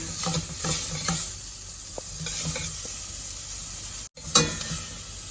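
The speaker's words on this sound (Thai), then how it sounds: "ผัดให้หอมเลยนะคะ" Beef for Japanese curry stir-fries in a pan with loud, close sizzling and rhythmic scraping strokes of a spatula, briefly cutting out near the end before the hiss resumes; no one speaks.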